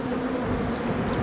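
Honeybees buzz around flowers, a continuous close drone lasting about a second with no voices.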